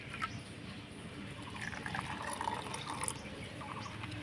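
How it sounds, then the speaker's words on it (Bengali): A bowl of water is poured onto sago, making a soft, continuous trickle and splash close by, faint and without talking. "এবার 1 বাটি মাপ করে দিয়ে দিব 1 বাটি জল পেস্ট করানোর জন্য।"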